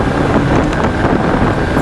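A 2025 Honda SP125 motorcycle ridden fast in fifth gear at over 100, producing a steady, loud roar of engine and rushing wind noise with no break.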